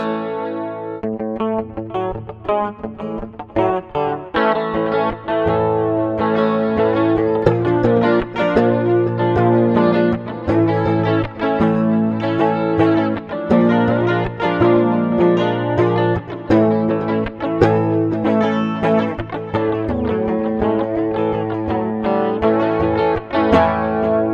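Electric guitar, a Jerry Cantrell Rampage replica with a single bridge pickup, played with heavy distortion and a shimmering chorus effect, sustained chords and notes ringing continuously, loud and up close.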